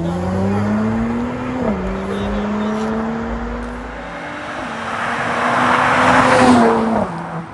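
An AMG and a BMW race side by side at Mobay race track, loud engines revving and rising in pitch through gear changes with tire noise, close and continuous, building to a peak near the end.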